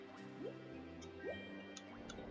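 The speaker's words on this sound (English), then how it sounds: "I love the sound that it makes when you're underwater. It sounds like a real waterfall." A waterfall heard from underwater in Donkey Kong 64, a faint, muffled liquid wash with soft dripping and bubbling blips rising over a steady low rumble.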